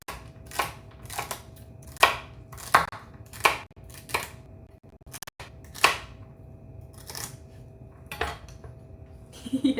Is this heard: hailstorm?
no